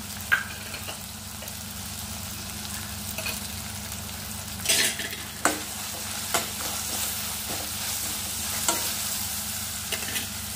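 Ginger-garlic paste sizzles in a pan as the base for a mushroom curry, a steady low fry broken by occasional sharper scrapes and clinks of stirring.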